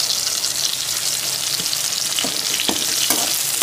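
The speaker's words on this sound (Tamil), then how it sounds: "பூண்டு நல்லா பச்சை ஸ்மெல் போகிற வரைக்கும் நல்லா வதங்கிட்டுங்க." Garlic fries in butter in a kadai, giving a steady, close, dense sizzle with light stirring scrapes throughout and no talking.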